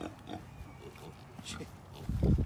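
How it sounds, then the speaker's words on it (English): An Idaho Pasture Pig grunts in low, close snorts that grow louder near the end, with people talking nearby. "So that's an Idaho Pasture Pig."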